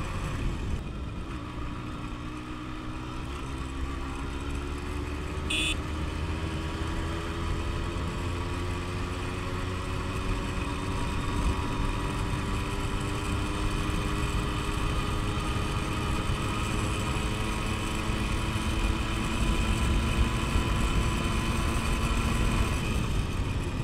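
A Yamaha RX100 motorcycle, freshly serviced, runs on a test drive, its engine droning close and steady with pitch climbing gradually as it pulls, and no voices heard.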